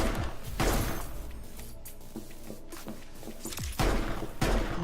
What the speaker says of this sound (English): Equip the handgun with B, and then shoot at them with right button.